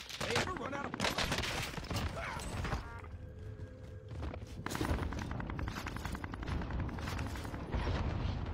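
Rapid automatic gunfire from the video game Apex Legends, dense bursts of shots and explosions filling most of the stretch with a short lull in the middle, loud and continuous.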